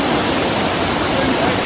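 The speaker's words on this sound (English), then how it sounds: "This is the waterfall where we wanted to come." A waterfall on a Kota Kinabalu trek in Malaysia gives a steady broadband rushing roar, constant and close, with a voice faintly under it.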